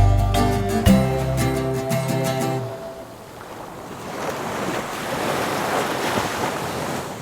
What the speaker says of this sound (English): The surf is lapping at the shell-strewn shore.